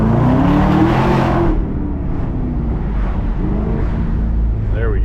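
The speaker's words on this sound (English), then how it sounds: "Let's make a little noise with the ZL1." A Chevrolet Camaro ZL1 revs loudly on a public road near 17 Mile Drive, its engine climbing in pitch for a moment before settling into a heavy, close, sustained drone with a brief voice near the end.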